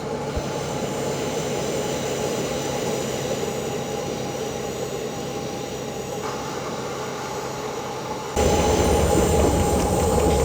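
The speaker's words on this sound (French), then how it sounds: "À la sortie de la gare, notre train attaque une rampe de 12." A train climbing a 12 per mil gradient out of a station on the Grenoble–Veynes Alps line rumbles steadily with a continuous rolling drone and tonal whine, growing louder near the end.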